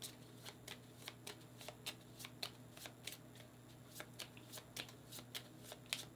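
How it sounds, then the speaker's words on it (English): Midnight Carnival cards from the Foxpaw board game being shuffled on a table, a quiet series of crisp riffling bursts repeating steadily every half second or so over a faint background hum, with no talking. "So we'll just shuffle these."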